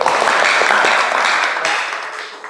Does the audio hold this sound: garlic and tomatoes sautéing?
no